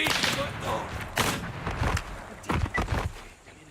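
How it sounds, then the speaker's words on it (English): Several sharp shotgun blasts from the tactical shooter Ground Branch go off in irregular bursts, punchy and fairly close, with a voice briefly speaking between shots. "Shotgun behind me"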